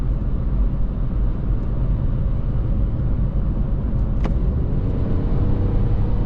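Mini Cooper 1.5 with a 136 HP engine (2017) driving in sport mode, a steady low engine and road rumble heard from inside the cabin, continuous and fairly loud throughout with no talking.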